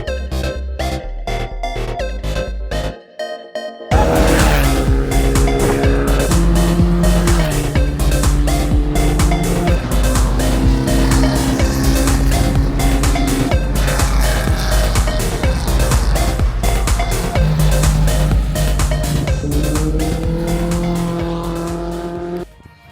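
Formula Vee race cars testing at Mondello Park, engines screaming loud and close through gear changes, with a brief gap before a car roars past and keeps droning on.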